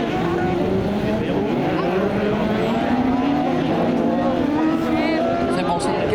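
Racing buggy engines roar during a Buggy Cup semi-final at St Junien, a dense sustained rising and falling drone of several motors, with a commentator speaking continuously over them.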